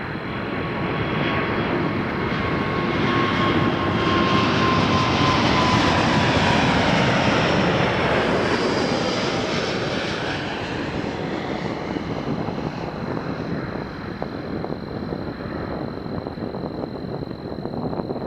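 A fixed-wing airliner on runway 23 at Toronto Pearson Airport gives a loud, sustained engine roar that swells toward the middle and then eases into a steady, lingering rumble.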